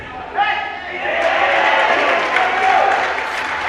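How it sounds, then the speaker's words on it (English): A New Zealand crowd cheers and applauds through a tense final over of a Masters World Series cricket final, a broad sustained roar from a distant stand, with a commentator's voice over it. "New Zealand crowd cheering the ones"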